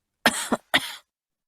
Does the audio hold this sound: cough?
yes